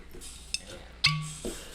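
Cups knocked together for a shot, a single bright clink with a short ringing tone, preceded by a few faint taps in a quiet room.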